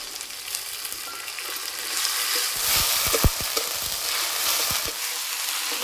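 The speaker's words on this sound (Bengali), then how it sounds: "এবার দেবো 1 চামচ মতো রসুন বাটা, 1 চামচ আদা বাটা" Onion and tomato frying in a pan as garlic and ginger paste are added: a steady loud sizzle with a cluster of stirring knocks and scrapes in the middle, no voices.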